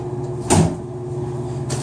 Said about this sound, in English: Let me shut this door for a